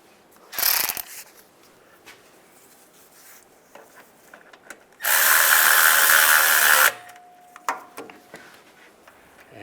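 A ratchet tightening a thread-locked bolt on the rear main seal cover of a 2007-2013 Chevy Silverado: a short burst of clicks, then a loud, sustained mechanical whir for about two seconds, followed by scattered light tool clatter.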